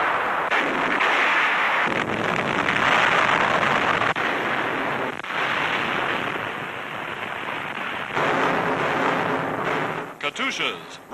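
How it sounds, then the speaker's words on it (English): Russian heavy artillery bombards Novorossisk in 1943, a dense roar of booming gunfire and blasts heard through old newsreel sound, with a narrator talking over it throughout. "Russian heavy artillery bombards Novorossisk for 4 days and nights"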